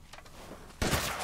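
A single loud gunshot in Resident Evil Village rings out near the end, after a short quiet stretch of ambient game noise.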